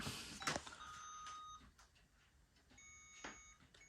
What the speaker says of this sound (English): You can hear that beeping on the reader, that high-pitched beeping.